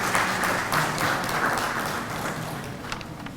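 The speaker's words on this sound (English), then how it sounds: "Let us welcome them with a huge round of applause." Sustained applause from an audience at the inaugural session of an IEEE event on the Internet of Things, thick steady clapping that eases slightly toward the end.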